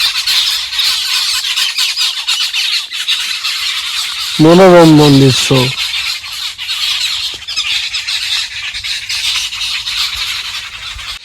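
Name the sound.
birds calling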